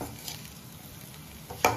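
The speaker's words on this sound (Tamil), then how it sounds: "இப்போ நமக்கு வந்து அந்த மசாலா வந்து நல்லா மிக்ஸ் ஆகிற அளவுக்கு நம்ம கிளறிக்கணும்" Chicken and masala stirred in a hot pan for a Kongu-style chicken dish, a steady low sizzle with soft scraping, then a sharp spoon clank against the pan near the end.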